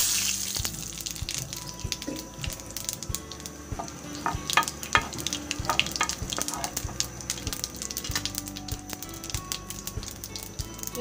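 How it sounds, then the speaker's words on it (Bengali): Whole cumin seeds and a bay leaf fry in fish oil, giving a steady close sizzle and crackle with small pops throughout, with no talking. "প্রথমে তেলে দিয়ে দিব আস্ত জিরা আর একটা তেজপাতা।"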